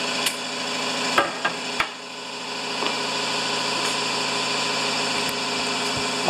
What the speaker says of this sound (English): I'll come back when the compressor quits